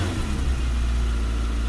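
A 1991 Chevrolet Cavalier with about 83,000 miles idles just after start-up, a steady low engine rumble, close and fairly loud, with no voices.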